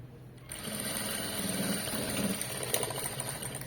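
A sewing machine stitches self-piping onto cloth with a steady, close mechanical whir that starts after a brief quiet moment and runs continuously.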